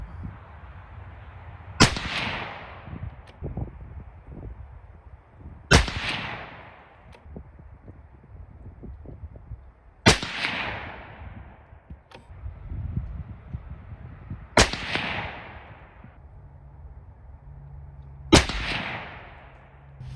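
Five loud, sharp rifle shots with Hornady 105 Aeromatch rounds at targets, spaced a few seconds apart, each with a decaying echo across an outdoor range, plus quiet handling noise in between.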